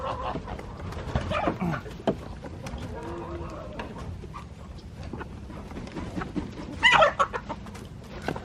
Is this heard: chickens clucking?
yes